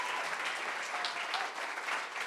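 An audience at a poetry recitation competition in a venue applauding the competing poets: a continuous wash of many hands clapping, steady and fairly distant, with no talk over it.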